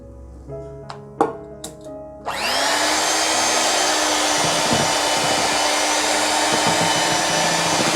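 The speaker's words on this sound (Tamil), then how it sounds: "நல்லா பீட் பண்ணி எடுத்துக்க போகிறோம்" Close, steady whirring from an electric mixer beating cake batter as maida flour mix is added, preceded by a few light clinks and taps before the motor starts and runs continuously.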